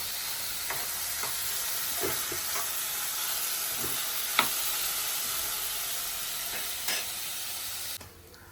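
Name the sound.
onions and tomatoes frying and being stirred in oil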